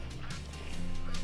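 Ducks in Hunt: Showdown give a short run of nasal quacks and honks, fairly quiet, against a low game background hum.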